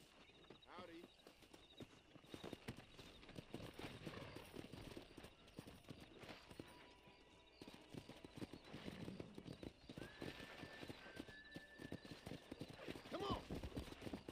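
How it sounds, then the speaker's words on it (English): Horses in the Red Dead Redemption game clop along with steady, rapid hoofbeats, and a sharp whinny rings out near the end, while voices talk throughout. "Let's see if we can't wrangle some horses."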